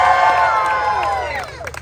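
An audience at Disneyland's Disney California Adventure cheers and shouts loudly for Deadpool at a holiday story-time show, a brief burst of crowd noise with children's shrieks that tapers off.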